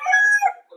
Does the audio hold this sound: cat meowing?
no